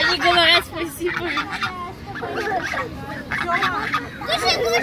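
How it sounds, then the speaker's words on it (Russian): Excited honking and cackling from a group of geese close by in a city park, being fed carrots, mixed with people chattering and voices overlapping throughout. "Вечно голодные гуси."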